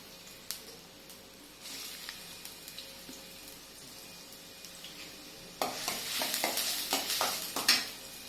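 Chopped onions and green chillies fry in plenty of hot oil in a kadai, a faint sizzle with stirring clicks that turns into a louder, busier crackle toward the end, with no talking.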